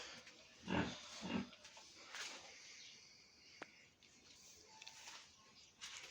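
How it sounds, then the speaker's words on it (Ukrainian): Faint snuffling and grunting from piglets pushing a homemade hopper feeder with their snouts, alongside scattered rustling and knocks of ground grain feed pouring, with soft background noise. "поросята п'ятачками толкають, дерть сипеться"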